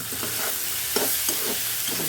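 Potatoes frying in a pan with turmeric for a prawn biryani meal, a constant close sizzle punctuated by rhythmic spatula scrapes, with no voices.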